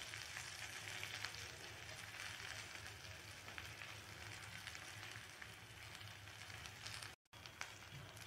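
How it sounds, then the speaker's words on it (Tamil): Drumstick leaves sauté in a pan over a low flame, giving a steady, dense sizzle that carries on evenly throughout, with no talking. "முருங்கைக்கீரை நல்லா வதங்கட்டும்."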